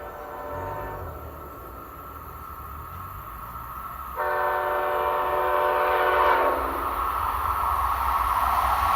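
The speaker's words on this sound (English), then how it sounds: "The ex-Metroliner cab car uses a Nathan K5LA in an old gen steel bell." A Nathan K5LA horn in an old-generation steel bell on an ex-Metroliner cab car in Train Sim World 2 sounds as a chord held for several seconds, then a louder, brighter second blast, loud and alone over the rumble of the train.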